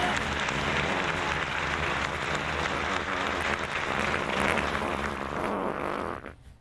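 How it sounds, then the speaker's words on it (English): A cheer sound effect plays as a dense, continuous wash of crowd cheering and applause at even loudness, cutting off abruptly at the end. "could you play the cheer sound effect anyway?"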